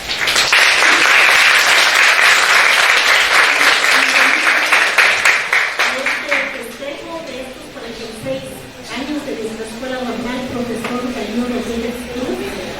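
An audience at a teacher-training school's anniversary event gives a loud burst of applause that fades after about six seconds, then a voice speaks over a few scattered claps.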